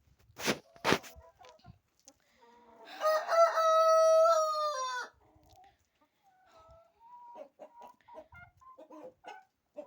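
Chickens cluck in short bursts, then a rooster lets out a loud, drawn-out crow, followed by softer scattered clucking and bird chatter nearby.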